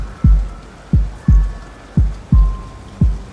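Steady rain hisses softly beneath a dim, empty hallway scene, punctuated by deep, regular thuds about every two-thirds of a second, like a slow heartbeat, close and heavy.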